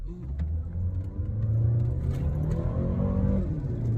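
Engine of a 2021 Mazda CX-5 in drive, holding its gear while accelerating gently, a low steady rumble that rises slightly in pitch, heard from inside the car.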